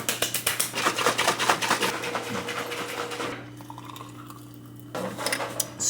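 Powder is scooped into a container with a rapid series of scraping, clattering taps for about three seconds, followed by quieter rustling and a final short clink.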